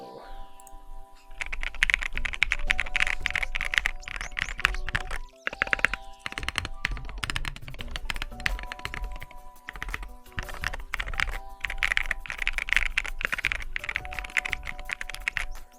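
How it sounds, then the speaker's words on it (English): A mechanical keyboard fitted with Durock switches is typed on steadily and up close, a dense stream of crisp clacks and thocks with a few brief pauses. "Sounds like a keyboard."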